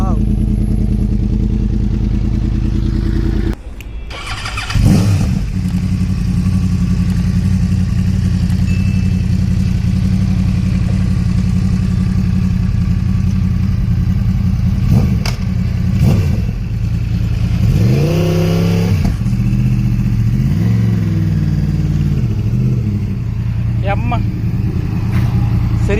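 A Honda CBR Fireblade SP fitted with a Twin Brothers racing exhaust runs loud and close, holding a steady idle before sharp throttle blips rise and fall, with people talking over it.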